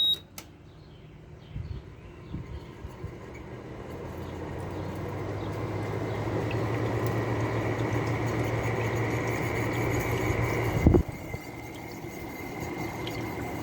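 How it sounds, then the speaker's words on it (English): A low-end Fedders window air conditioner starts up and runs with a steady hum and a slightly squeaky fan motor, rising after a few seconds and holding at moderate level, with a brief click near the end. "Fan motor has a bit of a squeak to it."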